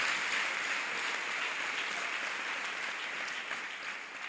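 A church congregation gives a round of applause during a sermon, a dense sustained clatter of many hands that holds steady and then slightly tapers near the end.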